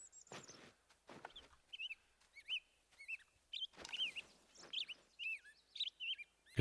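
A bird calls in the theHunter: Call of the Wild hunting game, giving a run of short, bright, chirping calls at a steady pace after a few soft rustles. The calls are fairly clear and moderately close, with no talking.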